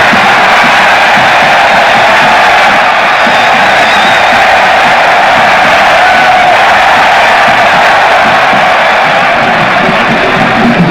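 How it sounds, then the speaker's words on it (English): A large crowd at FESTAC '77 in Nigeria roars with sustained cheering, whoops and shouts of welcome, loud and dense throughout with no single voice standing out. "the crowd gave its biggest and warmest welcome"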